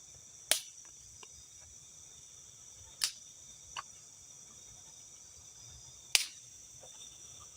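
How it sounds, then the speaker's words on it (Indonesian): Faint, sharp snaps like twigs breaking sound in a forest at night during a camping trip. Three distinct cracks come about three seconds apart, with a few fainter ticks between them and steady insect chirring underneath. "Itu dari tadi loh itu suara ranting itu."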